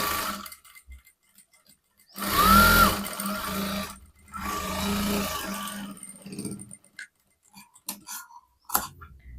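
A sewing machine stitches a blouse in short bursts of rapid mechanical whirring, close and moderately loud, separated by quiet pauses and a few clicks.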